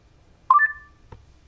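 A Bluetooth audio device sounds a short two-tone electronic beep as it pairs with a mobile phone, followed a moment later by a single fainter blip, clear against a quiet room.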